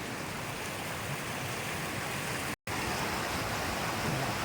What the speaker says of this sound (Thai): น้ำยังหลากอยู่นะ ยังหลากอยู่ ตรงนี้เป็นลำธารหลักของ ทางน้ำเลยนะ